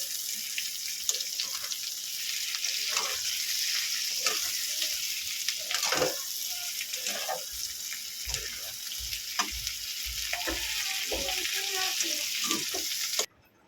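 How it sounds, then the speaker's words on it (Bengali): Pointed gourd frying with chilli and onion in a pan, a continuous sizzle broken by clattering stirs and scrapes, with a brief louder knock midway. "এবার পটলের সঙ্গে ভালো করে এগুলোকে মিশিয়ে নেব"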